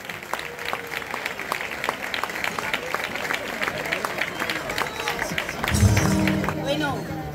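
Audience clapping steadily for the Sol y Luna choir at a peña federation verbena night, a dense patter of hands with a rise in volume near the end and talk mixed in.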